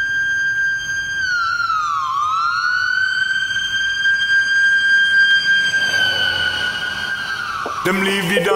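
A loud wailing ambulance siren sweeps up and down steadily for several seconds, close and dominant, ending in an abrupt burst of other sound in a dub track.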